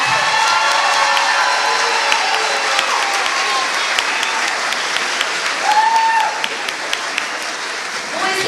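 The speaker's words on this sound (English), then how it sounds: "let's give them a big round of applause" Audience applause for an elementary honor choir at an all-county chorus concert, a dense continuous wash of clapping from a large crowd with a few scattered cheers, steady for the whole stretch.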